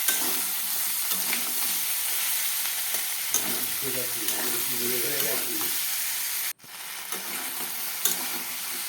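Spiced vegetables with chili powder and turmeric being fried and stirred in a pan, giving a loud steady sizzle broken by scraping stirs and a brief pause near the end.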